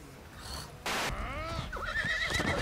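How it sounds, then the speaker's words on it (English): Horse in The Elder Scrolls Online neighing loudly and close, a long wavering whinny with a sharp burst before it and snorting pitch sweeps, no speech over it. "Goddamn fucking horse."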